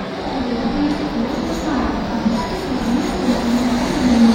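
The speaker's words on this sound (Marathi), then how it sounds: "हे दादरचं स्टेशन आहे," Train noise at Dadar railway station in Mumbai: a steady rumble of rail cars with a faint wheel squeal, continuous throughout and growing slightly louder toward the end, with a murmur of voices underneath.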